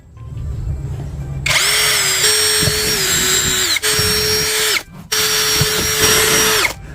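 A power drill bores holes, whining loudly in two long bursts with a brief stop between, close and without voices.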